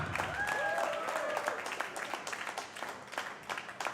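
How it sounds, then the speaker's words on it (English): A squash tournament audience gives steady applause, a dense patter of clapping that fades slightly toward the end. "just a huge round of applause for the Houston Squash Club's Ashab Irfan."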